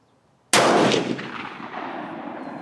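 A Swiss Model 1940 K31 rifle fires a single loud, sharp shot at an outdoor range, followed by a long rolling echo that slowly fades away.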